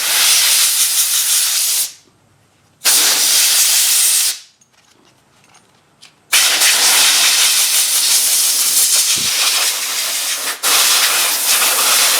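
Compressed air blasts dirt out of a Toro Timemaster mower in long, loud, steady hissing bursts, with two short pauses between blasts and no talking.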